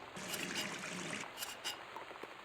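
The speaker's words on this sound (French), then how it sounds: "On va se laver les mains" Water runs steadily from a tap during hand washing in the game Gone Home, a soft, continuous trickle heard alone with a few faint splashes.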